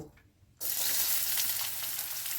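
Chopped onion hits hot oil in a wok with a sudden loud sizzle after a brief quiet moment, then a steady close frying hiss that continues to the end.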